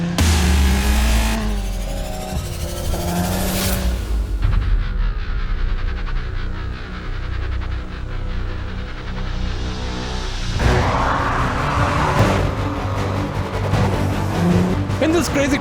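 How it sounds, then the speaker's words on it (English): A Maserati Levante with a 3-litre V6 churns along a rough wadi track off-road, engine rumbling and surging with whooshing bursts, heard loud and close, partly under music with some talk. "Wadi bashing in the Maserati Levante"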